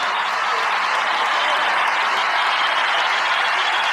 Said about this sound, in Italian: fate un applauso a questa ragazza.